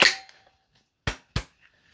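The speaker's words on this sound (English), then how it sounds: "Let's whack the mag in there so you can see it." A magazine is pushed into a VFC HK UMP .45 gas blowback airsoft rifle, giving two sharp, close metallic clacks in quick succession after a brief initial knock, with quiet between.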